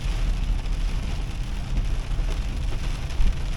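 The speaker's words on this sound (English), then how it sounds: "It's a rainy day." Steady rain falls outdoors in a dense, even hiss, close and unbroken throughout.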